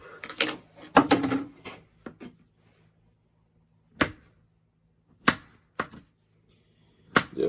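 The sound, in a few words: slicing bananas into thin slices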